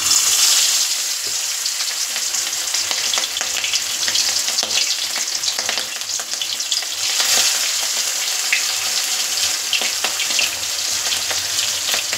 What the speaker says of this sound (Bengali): এবার এক এক করে নুন মাখানো ইলিশ মাছগুলো ভেজে নেব।